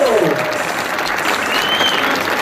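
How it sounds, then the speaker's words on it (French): Steady crowd applause greets the winner at the finish of stage 5 of the 2016 Paris-Nice cycling race, loud and continuous, with a faint announcer-like voice and whistles in the mix. "Applaudissements pour le vainqueur de cette 5e étape, Alexei Lutsenko."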